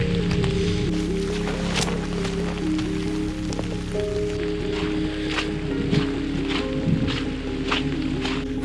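Heavy rain patters steadily on a nearby surface, with sharp drips scattered over a droning engine hum.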